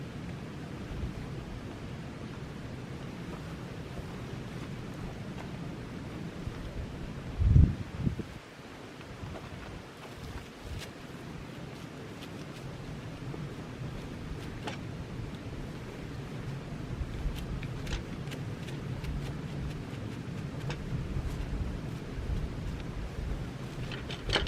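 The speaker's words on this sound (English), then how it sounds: "that wind from the north" Bitter cold north wind blowing through a winter camp in the Colorado Rockies, a steady broadband rush with gusty swells and one brief thump, no voices.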